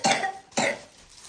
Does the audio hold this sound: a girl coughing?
yes